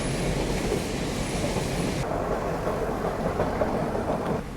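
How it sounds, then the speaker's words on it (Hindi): The Nilgiri Mountain Railway toy train climbs uphill toward Ooty, a steady loud rumble of wheels and carriage noise with a faint high squeal, heard from on board and continuous throughout. "और अब ट्रेन जैसे जैसे ऊपर की तरफ चल रही है"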